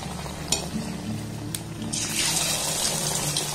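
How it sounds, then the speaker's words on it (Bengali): Pumpkin and gram flour fritters frying in oil over a low-to-medium gas flame, a soft steady sizzle with a couple of light clinks of a utensil, quiet and close. "গ্যাসের ফ্লেমটাকে লো টু মিডিয়াম রেখে এইভাবে আমি ভেজে নেব"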